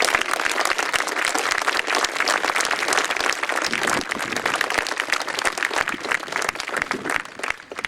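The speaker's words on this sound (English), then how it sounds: "So would I could have a round of real good applause once more." A crowd applauds at an outdoor memorial dedication on Hayling Island, with continuous, loud, dense clapping that stays strong for about eight seconds before easing slightly at the end.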